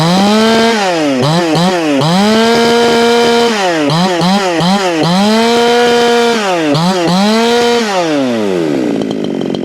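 A Mitsuyama TL-8500 60cc gasoline chainsaw engine revs up and down repeatedly, loud and close, its pitch rising and falling in a rhythmic pattern before easing off at the end.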